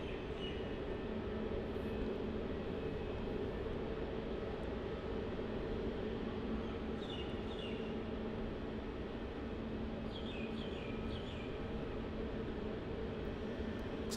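DC-9 airliner taking off from runway 16 at Melbourne Airport: a steady, faint, distant jet roar that holds evenly without a clear build or fade.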